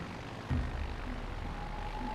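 Steady droning engines of carrier aircraft in World of Warships: Legends, a continuous aircraft hum holding level throughout with a faint tonal whine, no talking.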